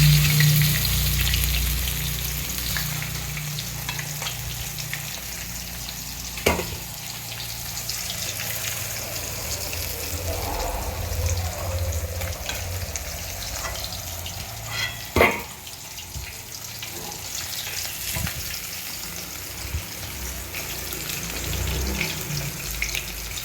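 Fish fry in hot oil in a pan until reddish-brown, a continuous crackling sizzle with scattered pops and a few sharp clanks of a utensil, steady and close.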